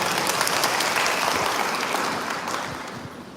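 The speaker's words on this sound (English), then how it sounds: "Let us all give a wide round of applause and thanks to all the participants" An audience at a school cultural day organised by the student council applauds, a steady dense wash of clapping that holds strong and then slowly fades toward the end.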